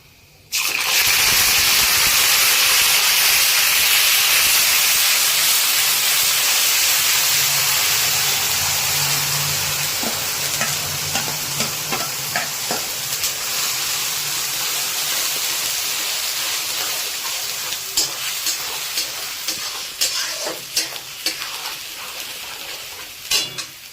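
Onion paste tipped into hot oil with whole garam masala in a pan, cooking for chicken rezala: a sudden loud, broad gushing sizzle that carries on steadily, with some scattered crackles toward the end.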